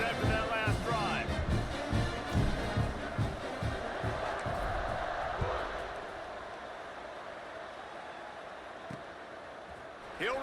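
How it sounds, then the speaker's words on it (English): Stadium crowd in a football video game roars steadily, a loud broad wash of cheering that gradually fades to a lower murmur, with talking over it. "this crowd is feeling themselves after that last drive"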